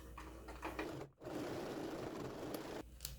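Domestic sewing machine stitching mesh fabric, running with a steady close mechanical whirr that briefly stops near the start and then continues to the end.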